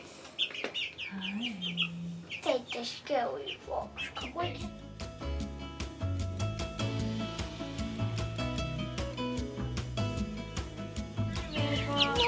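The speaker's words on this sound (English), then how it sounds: "So the foxes definitely know that the chickens are out here" Hens in a backyard DIY coop cluck and squawk close by, with a rooster-like call and bright chirps, while a voice talks over them and the flock keeps up a busy, layered chatter.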